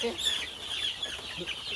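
Steady high-pitched cheeping of chicks close by, continuous and overlapping, with occasional low clucks beneath.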